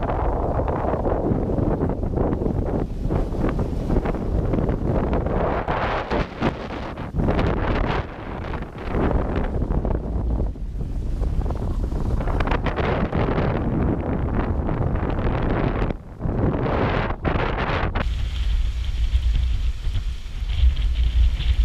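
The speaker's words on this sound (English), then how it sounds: "The wind's perfect. It's sort of between 12 and 15 knots and we're just bobbing along 6 to 7 knots" Heavy wind buffets the microphone on a sailboat at sea in a 12 to 15 knot breeze, a loud, continuous roaring rush with gusty surges and faint water sounds beneath, and no one speaking.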